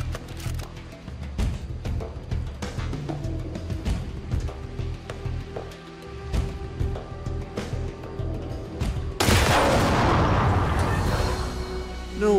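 Gunfire in the robot pirate video game Steamworld Heist II comes as a series of punchy booms and sharp bursts over a low game backdrop, ending in a louder noisy blast.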